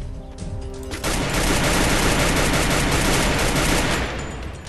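Sustained automatic gunfire from a newly picked-up weapon in a shooter game, starting after a brief quieter lead-in and roaring loud and close in a dense, unbroken stream before easing at the end.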